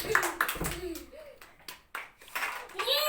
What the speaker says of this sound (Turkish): Kızlar Mete'ye alkışlıyoruz.